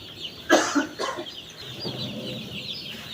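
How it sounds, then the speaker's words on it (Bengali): Chickens on a poultry farm cluck while eating, drinking and running about, giving a few close, sharp clucks followed by softer scattered calls over quiet background noise. "মুরগি কিন্তু সুন্দরভাবে নিজেরাই খাওয়া দাওয়া করতে, ফিট খাচ্ছে, পানি খাচ্ছে, দৌড়াদৌড়ি করতেছে"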